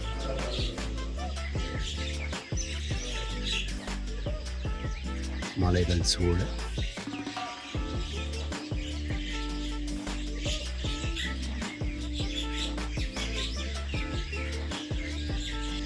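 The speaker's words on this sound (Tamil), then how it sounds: "பறவைகளின் சத்தம்," Birds chirp and tweet in quick bursts throughout the early morning in Kanthaloor, Kerala, partly under a voice speaking and a steady background hum.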